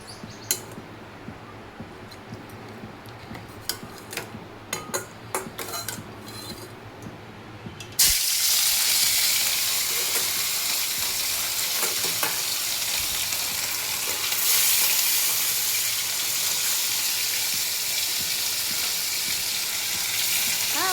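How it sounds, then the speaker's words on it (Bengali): Fish fries in a pan for a Bengali fish curry: a quiet kitchen with light clinks gives way after about eight seconds to a loud, steady sizzle that stays close and continuous to the end, with no talking. "মাছটা ভেজে নেবো"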